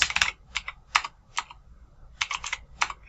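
Keys on a computer keyboard clack in quick irregular bursts with short pauses between, close and clear while text is entered into an Excel spreadsheet.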